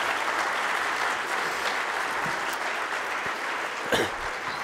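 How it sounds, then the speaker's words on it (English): Sustained applause from a conference audience at a national jobs conference, a dense wash of many hands clapping at steady volume for several seconds, fairly close and uninterrupted by speech. "Please give Stella a big round of applause."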